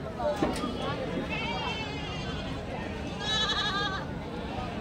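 Several goats bleat nearby, wavering calls overlapping at different pitches, with people talking in the background at a weekly sheep and goat market in Kadiri.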